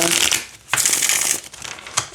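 A tarot card deck is shuffled by hand nearby, giving a dense riffling rustle in two quick bursts with a short gap between them and a soft snap at the end of each run.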